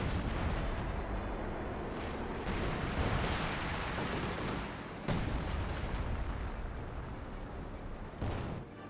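Battle noise from the video game Company of Heroes 2, where a Panzer IV tank gun fires, forms a dense, rumbling wall of explosions and gunfire, with sharper cannon-like blasts standing out near five and eight seconds.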